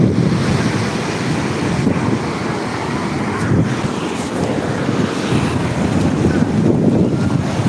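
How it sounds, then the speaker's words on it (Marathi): Big waves surge onto the seashore at high tide in a loud, continuous roar with heavy wind buffeting the microphone, close and unbroken, without clear talk. "तिकडे खूप लाट यायला म्हणजे खूप म्हणजे खूप लाटा यायला आम्ही आलो आहे समुद्रावर"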